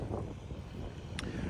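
Wind howls and buffets the microphone over a farm crop field damaged by geese and flooding, a steady broadband rumble filling the moment with a brief higher whistle near the end.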